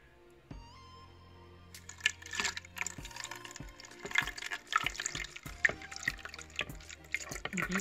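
Milk poured into a bowl of crepe batter that already holds melted butter and sugar, giving a close liquid splashing and dripping with small clinks, building from quiet to a steady busy pour.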